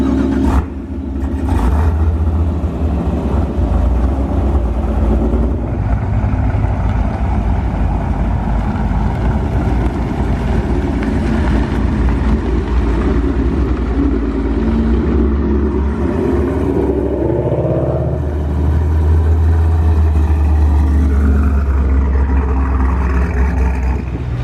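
A built 2017 Chevrolet Camaro SS engine revving on a dyno: a loud, continuous, deep engine roar that holds steady and swells near the end, with no talk.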